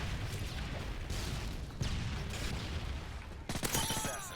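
Explosive fire in a Call of Duty match with rocket launchers in use, repeated booming blasts and shots under continuous battle noise, ending in a sharp close burst with metallic mechanism clatter.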